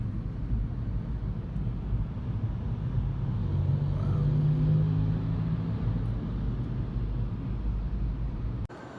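Steady early-morning Los Angeles road traffic at 6 a.m., a continuous loud rumble of passing vehicles with wind buffeting the microphone and no talk.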